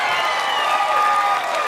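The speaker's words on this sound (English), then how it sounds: "Round of applause, people who remember playing dodgeball." A comedy club audience breaks into applause and cheering, a brief, steady burst of clapping and mixed crowd noise.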